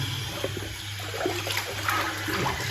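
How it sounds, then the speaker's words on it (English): A bathroom tap runs steadily as shaved-off hairs are rinsed away after a straight razor shave, a close continuous water rush with small splashes and a low hum underneath. "I need to rinse all the hairs"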